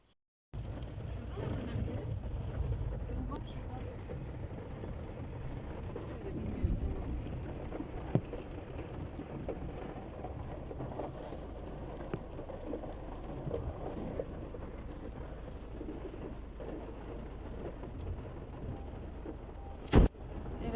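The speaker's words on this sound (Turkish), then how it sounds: "bu da Antep'teki yağmurun ilk başlangıç anı" Rain starting to fall in Antep on a stormy day, a steady broad wash of rainfall with low rumbling wind noise throughout and a sharp knock near the end.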